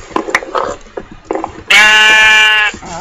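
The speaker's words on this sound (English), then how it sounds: "Ah, shut up, sheep. I find the sheep are really obnoxious in this game." A loud, sustained sheep bleat in a survival video game cuts in after some scattered low clatter and brief sounds, holding steady for about a second before stopping.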